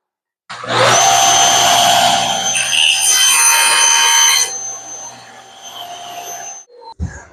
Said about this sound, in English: I bring the blade up to the right height that it'll actually cut through the material.